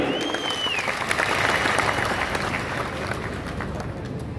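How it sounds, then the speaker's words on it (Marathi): An audience at a public event honouring Maharashtra's public works minister Shivendra Raje Bhosale breaks into dense, sustained applause, a continuous crackle of many hands that stays fairly even throughout and heard from some distance. "जोरदार टाळी"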